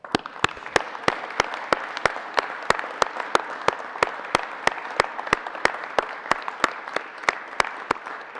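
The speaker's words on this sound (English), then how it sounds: "Members, can we please take a moment and recognize the family of Pat Teagarden with a round of applause?" Members in the Colorado Senate chamber give a round of applause, steady crowd clapping with sharp, evenly spaced clicks cutting through the whole stretch.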